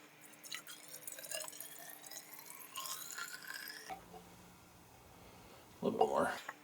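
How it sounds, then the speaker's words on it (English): Water sloshes and drips as a cup is rinsed after a soak used to restore a 1/2-inch drive breaker bar, with quiet splashing that builds to a louder burst of pouring near the end. "kind of rinse it with water."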